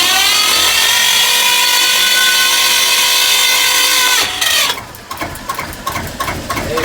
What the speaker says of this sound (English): I've got to try and start this engine one-handed